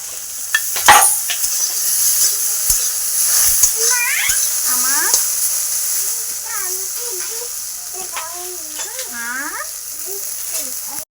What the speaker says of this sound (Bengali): তো ভালো করে একটু ভেজে নেব। কেটে রাখা লঙ্কাগুলো দিয়ে দেবো।